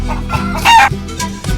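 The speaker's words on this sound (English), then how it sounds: "Goodbye, chicken." Chickens cluck loudly and close by in Bolivia, giving a string of short clucks with one brief crow-like squawk in the middle, heard over a low steady rumble.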